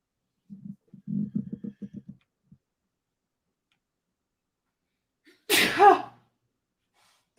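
One loud, sharp sneeze close by, after a soft, faint rhythmic ticking or murmuring sound and a few seconds of near silence.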